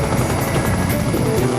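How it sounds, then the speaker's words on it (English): A rescue helicopter in the video game Choplifter Crisis Shield gives off a loud, steady rotor and engine roar that fills the whole clip without a break. "The game begins with scenes featuring helicopters in action."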